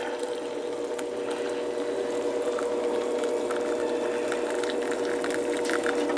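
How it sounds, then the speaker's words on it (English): Hot water pours into a coffee cup in a continuous low gurgling trickle, quiet and close, steady throughout with no speech. "Pour my hot water"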